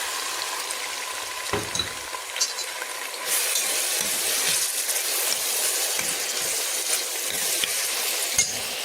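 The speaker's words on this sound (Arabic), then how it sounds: "احنا هنشوح البصلة بس" Sliced onion sautéing in melted ghee and oil, a continuous crackling sizzle with occasional utensil clinks and stirring scrapes, steady and fairly quiet with no talking.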